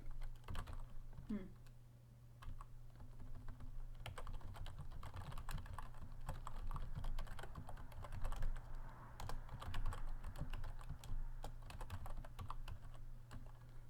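Rapid typing on a computer keyboard by cold, numb hands in a chilly room, a steady close stream of light key clicks over a low hum.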